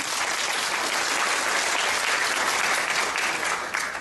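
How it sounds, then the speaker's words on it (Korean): Steady, dense applause from an audience at a national university professors' rally welcoming a union leader to speak, loud and continuous throughout the short stretch with no talking over it. "박수로 맞이해 주시겠습니다"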